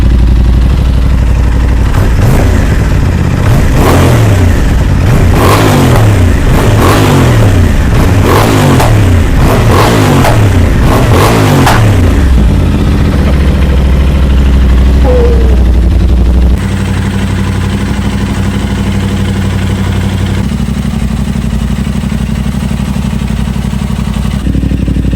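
A crash-damaged 2023 Aprilia RS660 motorcycle engine is started and revved, with loud, close, repeated rising and falling revs for about twelve seconds, then settles into a steady, lower idle.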